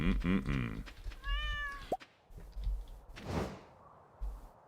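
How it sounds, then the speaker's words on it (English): A cat meows in the Stardew Valley Expanded game, one short mewing call amid soft game effects and a whooshing swish, fairly quiet overall. "That cat just stole some cheese from someone."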